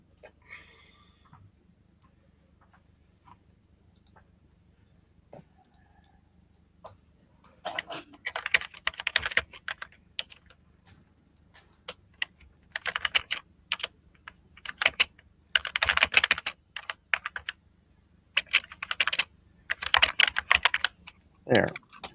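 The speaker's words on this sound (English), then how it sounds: "I told them I would harvest one off this keyboard since it's broken anyway" A key switch is pried off a broken computer keyboard with a tool, giving bursts of clicky, scraping plastic clatter that come in several clusters. The sound is close and fairly quiet, with no talk.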